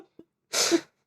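A single sharp, close sneeze bursts out after a short intake of breath, loud and brief against near silence.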